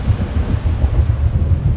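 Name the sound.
strong wind howling at sea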